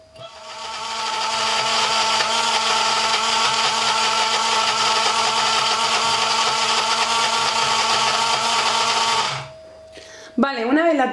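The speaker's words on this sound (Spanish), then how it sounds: "voy a batirla en mi batidora" An electric blender whirs loudly and steadily for several seconds, then cuts off abruptly, followed by a brief voice.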